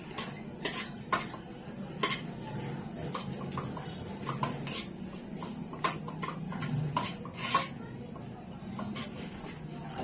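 Mussel sisig being stirred in a pan, with steady scraping and clinking of a utensil against metal, sharp repeated knocks over a soft sizzling background, close and fairly loud.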